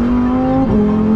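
A Lamborghini Huracan STO is driven at full power, its engine loud and close with a steady high note that dips briefly at a gear change, then climbs again. No voices are heard.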